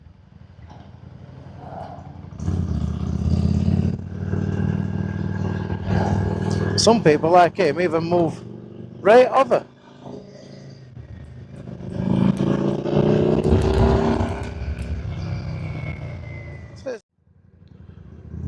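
A motorbike rides through traffic with a rough engine roar that swells and fades over the ride, heard from the rider's position under frequent speech.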